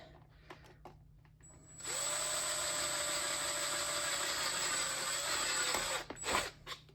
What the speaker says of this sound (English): I don't have any holes on the side that I made with my drill, so I'll do that